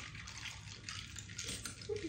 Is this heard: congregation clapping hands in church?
no